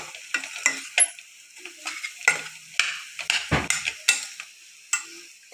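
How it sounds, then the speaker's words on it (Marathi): Boiled potatoes for samosa filling are broken up with a spoon in a pan, giving irregular scrapes and taps against the metal over a faint sizzle, close and alone. "आपल्याला असंच चमच्याने असे तोडून घ्यायचं आहे."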